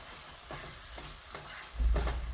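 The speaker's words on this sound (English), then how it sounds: "So just put it on medium and keep stirring until the meat is brown enough." Ground meat for a meat pie browning over medium heat in a pan, a steady soft sizzle broken by a few scraping stirs, with a louder low thump and scrape near the end, close by and without talk.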